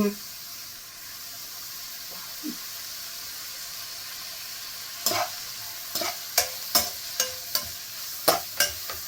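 Onions fry in a pan at home for a prawn biryani, a soft steady sizzle running underneath, followed by a series of sharp stirring clatters from a utensil against the pan near the end.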